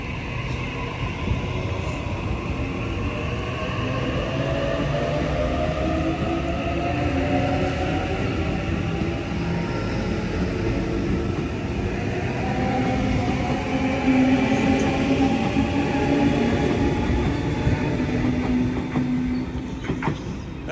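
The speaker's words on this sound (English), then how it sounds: "It all stops to Hornsby train coming into platform two" A Sydney Trains all-stops service to Hornsby pulls into a platform, its steady rumble and rising tonal whine of traction motors and wheel squeal building over about twenty seconds, close and continuous with no talk.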